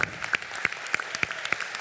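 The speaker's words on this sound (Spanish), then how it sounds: "Y les damos ese aplauso como se merece" A concert audience applauds after the performance. The clapping is sparse and steady, with distinct claps in a fairly regular rhythm, close and moderately loud, and no voices.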